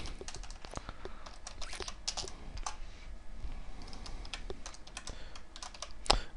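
Steady, uneven clatter of fingers typing on a computer keyboard while coding, quick key clicks in irregular bursts close up, with one sharper louder tap near the end.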